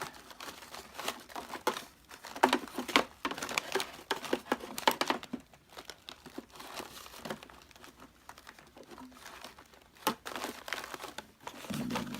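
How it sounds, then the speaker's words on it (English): A temporary bag is fitted into a Hoover Turbopower 2 U2107 vacuum cleaner, giving close, irregular bursts of paper crinkling and crumpling with short pauses between. "I'm going to put a temporary bag in"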